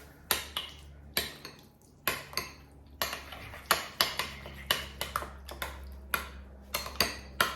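A spoon clinks and scrapes against a dish while a side dish is mixed with half a lemon's juice, a steady run of close, sharp strikes coming roughly twice a second.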